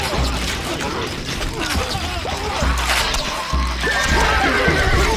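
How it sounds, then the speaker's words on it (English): Horses neigh and whinny in the medieval strategy game Stronghold Crusader over steady clip-clop hooves and battle noise, with a dense, continuous game soundscape and a low rumble throughout. "خيولنا جاهزة."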